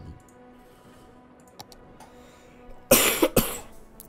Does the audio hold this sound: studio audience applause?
no